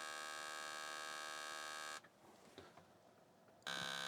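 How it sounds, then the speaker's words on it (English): IBM PC speaker giving a harsh, steady buzzing beep that drops out for about two seconds and then returns. The sound is close, constant and stands alone. "it sounded like the beeping out of the speaker went up in frequency"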